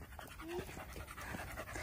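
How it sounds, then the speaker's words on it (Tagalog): Dogs panting on a hiking trail up a hill, a steady run of quick, close breaths for about two seconds with no talk over them. "hiningal na yung mga aso"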